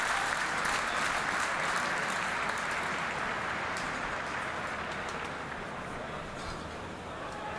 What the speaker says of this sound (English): Good to see plenty of applause from the fans as well.